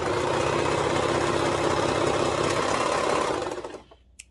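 A sewing machine runs continuously while stitching the side seam of a home-sewn shirt, a loud, even motor whir for several seconds that slows and stops near the end.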